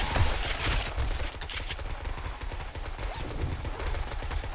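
Shotgun blasts and chaotic combat noise in the survival game 7 Days to Die, Darkness Falls mod, pound in repeated heavy bursts over a rumbling, cluttered background at moderate loudness.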